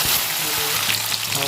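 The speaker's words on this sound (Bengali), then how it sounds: "তেল গরম হয়ে গেছে, আমি দুটো শুকনো লঙ্কা দিয়ে দেবো" Two whole dry red chillies dropped into hot oil in a wok sizzle loudly and steadily up close, a dense crackling hiss throughout.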